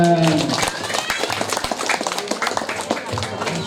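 A classroom of students claps hands in a short patter of irregular claps mixed with voices and movement, fairly close, after a teacher's call.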